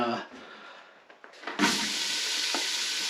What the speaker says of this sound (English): Now we're going to saute up our onions